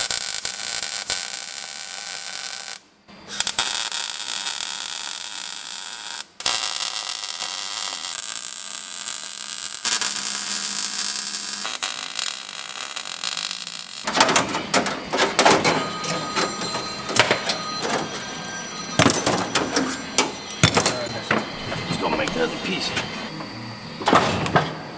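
Welding rear floor panels on a 1938 Ford Cabriolet, a loud, close, continuous crackling buzz broken by short pauses, later giving way to harsher, more uneven sputtering. A person talks now and then.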